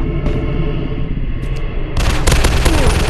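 Rapid gunfire from the zombie shooter game Zombies Fire Strike, set in an industrial war level: a steady loud rumble, then a harsh burst of dense automatic shots near the end.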